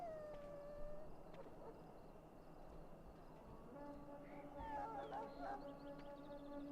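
A sick dog in the game Dragon Age: Origins whimpers and lets out thin, wavering howls, faint and drawn out over a low steady game ambience with a rumbling background.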